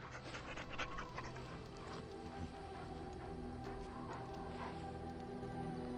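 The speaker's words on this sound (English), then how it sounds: "He bounces around you, barking happily" The dog Hannibal in Dragon Age: Origins panting steadily and rhythmically, close and fairly quiet, over a continuous game background hum with no clear barks standing out.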